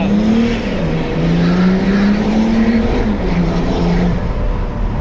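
A tuned BMW X6 35d diesel with a stage 1 remap, downpipe and hardcut drives hard. Its engine roars loudly and steadily throughout, with the pitch wavering as it revs, close and unbroken.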